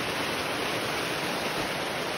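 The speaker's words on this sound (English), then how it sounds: "I got caught in the pouring rain." Heavy pouring rain in a garden, a dense, steady broadband hiss with no breaks, close and loud, with no voices.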